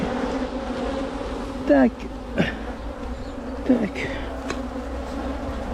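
Bees hum in a continuous close buzz during an artificial hive split, with a couple of short clicking taps from a voice breaking through the drone.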